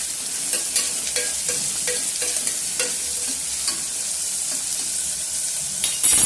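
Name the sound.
onions with salt being stirred and sautéed in a pan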